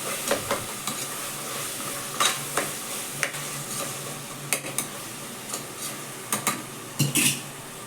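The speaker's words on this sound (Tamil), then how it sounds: "வாசனை வர வரைக்கும் நல்லா கிளறி" Ginger garlic paste stirred and fried in a pan, with a steady sizzle beneath repeated sharp scrapes and clinks of a utensil against the pan, loud and close, at an irregular rhythm throughout.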